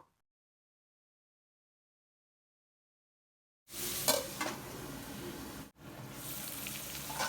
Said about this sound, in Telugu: అలాగే ఒక ఐదారు పచ్చిమిర్చి చీలికలు కూడా వేసేసి ఒక్కసారి ఇలా ఫ్రై చేసుకుందాము గోల్డ్ కలర్ వచ్చే వరకు